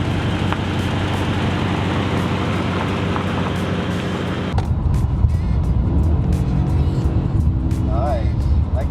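Chrysler 300 on a road test drive, a steady interior cabin drone of engine and tire roar that shifts in tone partway through, with a voice talking over it.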